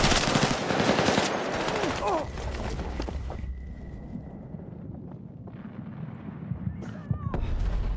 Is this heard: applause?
no